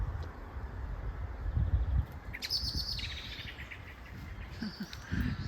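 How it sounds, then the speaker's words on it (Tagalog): Many birds chirping and tweeting outdoors at a vineyard in spring, scattered high calls over a soft breezy background with faint insect-like buzzing, fairly distant and quiet. "Ang daming ibon dito, ang daming ibon."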